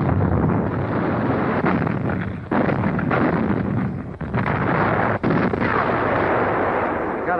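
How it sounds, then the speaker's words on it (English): Depth charges fired from a wartime corvette's side and stern against a submarine, a sustained roaring wall of heavy blasts and rumbling with brief gaps, loud and close. "From side as well as stern, we're slinging the charges until our pattern covers that sub."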